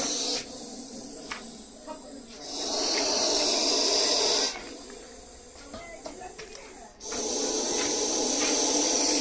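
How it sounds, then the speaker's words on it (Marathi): An angry snake hisses loudly and forcefully in long sustained bursts like a pressure-cooker whistle, separated by short pauses, close by, with faint talk in between. "या सापाला राग आल्यानंतर हा कुकरची शिट्टी ज्याप्रमाणे असते त्याप्रमाणे हा साप आवाज काढत असतोय"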